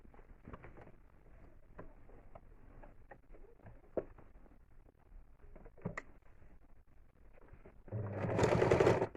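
A domestic sewing machine stitching a quilted seat cushion, with soft intermittent clicks and handling noises before a loud, steady burst of motor-driven stitching near the end.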